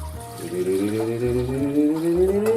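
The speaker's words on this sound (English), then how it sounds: "4 cups of water for our taco rice." Water pours steadily into a pot of rice for taco rice in a home kitchen, a continuous close splashing stream whose tone slowly rises as the vessel fills.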